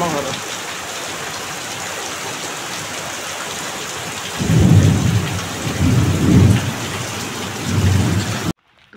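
Heavy rain hisses steadily while deep rolls of thunder rumble in three loud swells, close and booming, before the sound cuts off abruptly.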